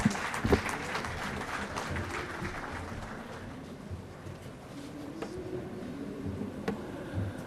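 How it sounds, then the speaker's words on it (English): Applause from an audience at an innovation awards ceremony in Gujarat, fairly faint and distant, a steady wash of clapping with a few sharper claps standing out. "A round of applause for Mr. Davis"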